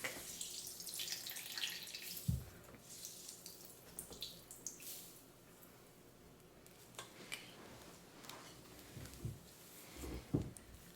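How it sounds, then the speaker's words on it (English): A warm wet rag is handled close up, with soft wringing, dripping and splashing water in quiet, intimate bursts and no voices. "Just grabbing warm, wet rag."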